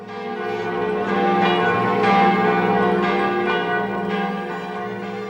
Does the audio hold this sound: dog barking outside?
no